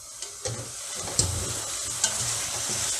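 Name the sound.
lamb jalfrezi with green chilies frying in pan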